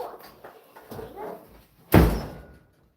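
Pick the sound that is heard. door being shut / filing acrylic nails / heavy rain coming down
door being shut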